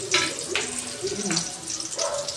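Food sizzles and fries in a pan, a steady crackling hiss running throughout, with someone talking over it close by.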